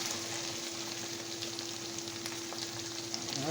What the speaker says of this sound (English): Can you hear that sizzle, guys?